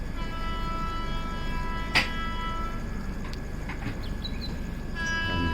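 A passenger train on the Kerala to Mumbai line emerges from a tunnel with a steady, close rumble and sustained tonal horn-like lines running under it, plus a brief clank near the middle.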